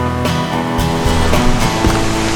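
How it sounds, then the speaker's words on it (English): Gushing water from a waterfall along a hiking trail at Mt Rainier National Park, a continuous, loud roaring rush with steady broadband wash and occasional low thumps, no voices over it. "You can hear the gushing water."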